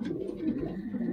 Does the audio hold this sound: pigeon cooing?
yes